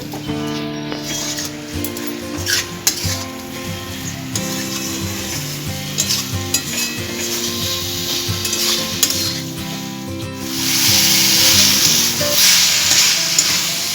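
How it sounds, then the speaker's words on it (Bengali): Pointed gourd (potol) sautés in a pan, a continuous close sizzle with scraping stir strokes that swell into louder frying near the end. "পটলগুলো দেওয়ার পর আরও আমি একবার ভালো করে কষে নিচ্ছি"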